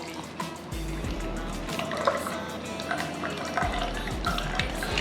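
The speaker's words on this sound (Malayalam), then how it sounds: "ഷേക്ക് ചെയ്തായിട്ട് നമ്മൾ ഇങ്ങനെ ഒരു ഗ്ലാസ്സിലേക്ക് ഒഴിക്കണം" A shaken orange mint drink poured into a glass, a steady close splashing and trickling of liquid that runs throughout with small drips and gurgles, no voices.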